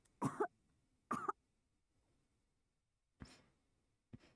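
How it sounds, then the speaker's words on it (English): Four separate coughs from behind a wall in a video game, two loud bursts close together, then a pause and two softer, shorter ones, muffled through the wall. "I heard the coughing from behind the wall."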